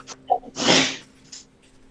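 A single close sneeze bursts out loudly during a tabletop roleplaying game session, with a quick breath before it and quiet afterward.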